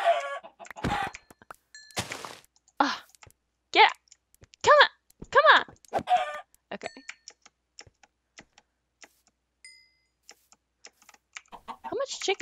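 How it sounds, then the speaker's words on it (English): Chickens cluck in a block-building survival video game, a series of loud, close squawks coming in bursts over the clatter of keyboard typing, then a quiet stretch and more clucks at the end. "Oh wow, look at all these chickens! So many chickens!"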